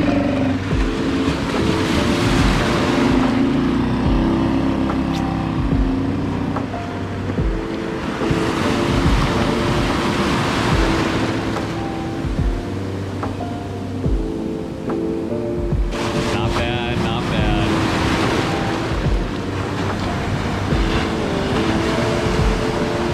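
Ocean surf rolling and crashing during a boat launch through the waves at La Jolla, with a Scout boat's motor running; loud continuous wash with surges of breaking water recurring every few seconds, no talk.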